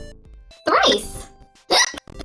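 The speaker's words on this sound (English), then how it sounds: "I got the hiccups." Two abrupt hiccups from a person, each a short loud vocal burst separated by about a second, close to the microphone with no other voices.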